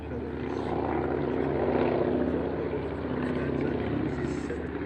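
A multi-engine Junkers Ju 52 drones past at the Duxford Flying Legends air show, its piston engines and propellers giving a steady, loud rumble that swells slightly midway, with voices faintly underneath.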